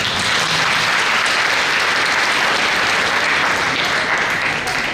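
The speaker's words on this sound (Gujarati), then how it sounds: "બધાએ તાળીથી વધાવો." An audience at a children's recitation event claps steadily, dense sustained applause at full strength throughout, with no voices standing out.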